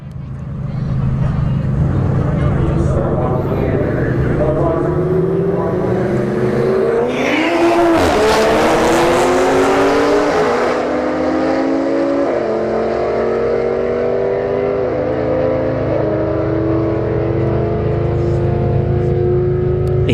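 Drag race at Bradenton Motorsports Park between a Toyota A90 Supra and a Pontiac G8 (Holden Commodore): loud engines rev and climb through rising gear-shift sweeps, with a sharp burst mid-run, continuous and close.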